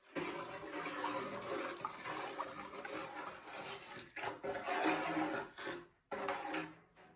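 Water with grated soap, 300 g of soda and a glass of silicate glue being stirred in a bowl, a steady sloshing and scraping swirl that runs continuously with brief pauses near the end.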